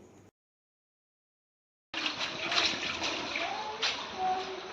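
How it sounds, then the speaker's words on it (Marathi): Floodwater rushes and splashes continuously at close range after a short silence as it flows into houses, a steady churning flow with occasional louder surges. "अनेक नागरिकांच्या घरामध्ये पाणी शिरल्याने खूप मोठे नुकसान होत असल्याचे"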